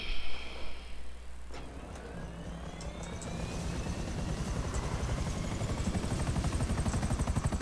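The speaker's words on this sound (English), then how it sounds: "Alright, into the helicopter we go." A helicopter in the video game GTA Online starts up, its rotor chop building from a low whine into a loud, steady, rapid thumping that fills the mix.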